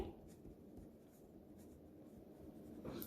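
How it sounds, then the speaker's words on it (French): A maths formula on scale being written by hand, a soft continuous scratching of pen or chalk strokes, quiet and close, with no talking. "J'écris la formule."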